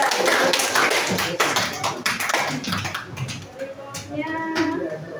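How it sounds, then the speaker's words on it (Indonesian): A classroom claps for a student during a social studies lesson, a burst of quick, scattered hand claps that thins out and fades as voices and classroom noise take over. "tepuk tangan untuk Sayyidah."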